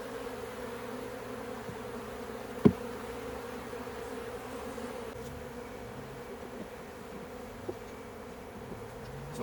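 Honeybees flying around an open hive during a fall inspection make a steady, low, continuous drone, with a couple of faint knocks over the hum.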